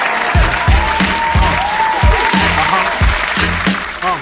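Audience applause at a Christmas light installers' mastermind gathering, a dense, loud wash of many hands clapping close by, with a few heavier claps and cheers standing out across the few seconds.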